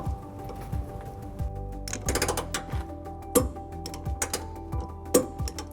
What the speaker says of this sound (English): take our 11/16 socket and torque wrench and torque it to manufactured spec